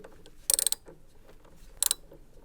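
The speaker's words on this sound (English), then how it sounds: "Unscrew the centre nut using your 10mm socket set." A 10mm socket ratchet loosening the centre nut of a Beko washing machine heating element, two short bursts of rapid clicking separated by a quiet pause, close and crisp.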